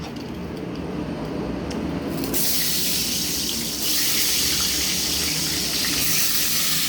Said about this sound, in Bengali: সেই আলুটা কড়াইয়ে দিয়ে দিলাম